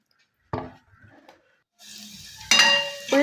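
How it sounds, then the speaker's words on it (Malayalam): Chopped onions land in hot oil in a pan, giving a sharp hiss that fades, then short stirring sounds and a steady sizzle that grows louder near the end. "പാന് ചൂടായതിന് ശേഷം കുറച്ച് ഓയിൽ ഒഴിച്ചെടുത്തിട്ട് നമുക്ക് ആ ഉള്ളി അതിലിട്ടൊന്ന് വറുത്തെടുക്കാം."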